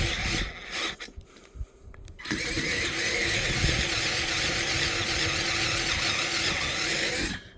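A cordless drill grinds into 3 mm steel with a rough, rasping whine, starting in short bursts, then running steadily for several seconds.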